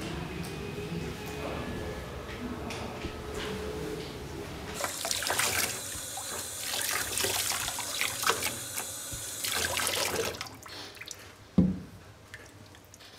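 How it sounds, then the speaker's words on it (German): Water rinses the soldered body and foot of an organ pipe, washing off a red water-soluble bolus coating, with splashing and trickling from a tap, quieter at first and then louder and busier, ending with a single clank. "Nach dem Verlöten der Längsnaht waschen Sie Körper und Fuß gründlich und befreien Sie vom wasserlöslichen Bolus, der roten Schutzschicht."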